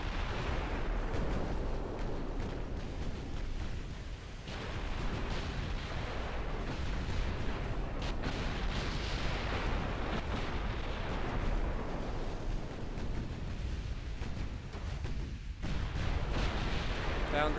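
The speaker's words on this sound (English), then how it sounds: "Keep the gun cycling, Hoss" Battleship guns, including 12.1-inch guns, fire in a naval video game as a continuous rumbling barrage of booms and explosions, steady and dense throughout, heard fairly quietly.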